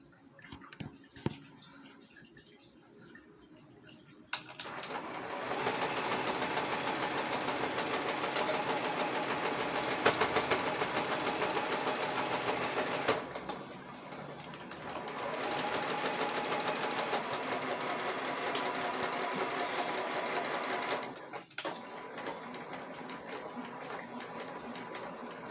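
A sewing machine stitches quilt pieces laid point to point, its motor running in two long steady bursts with a brief pause between, close and fairly loud.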